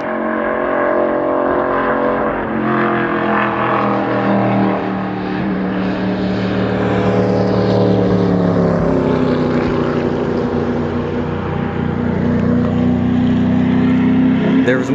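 A race car's engine drones loudly and steadily on a NASCAR track, its pitch shifting as it comes around and passes by.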